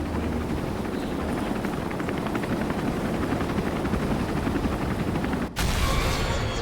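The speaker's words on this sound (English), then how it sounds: "Come on, Jill, get in that helicopter, Jill" Helicopter in the Resident Evil 3 video game, a loud continuous rotor chop with dense rapid thumping, cutting sharply near the end before resuming brighter and steady.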